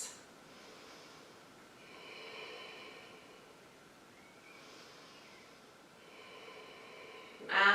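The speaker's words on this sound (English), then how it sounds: "So take 3 more breaths" Slow, deep breaths held through a yoga shoulder stretch, soft airy inhales and exhales at a relaxed pace, faint and close, with a brief louder rustle at the very end.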